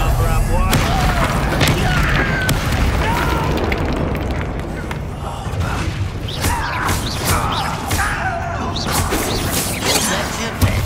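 A Bombarda blasting spell explodes in Hogwarts Legacy, a loud, sustained booming blast among crashing combat effects, with game voices mixed in over dense background noise.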